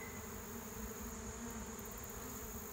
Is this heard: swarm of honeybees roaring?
yes